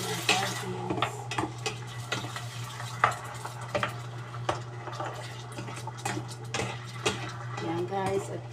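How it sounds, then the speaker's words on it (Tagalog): Sardines sautéed with garlic and onion in a pan, close sizzling under repeated metal spatula scrapes and clinks against the pot, with faint talk in the background. "Igisa natin ang sardines."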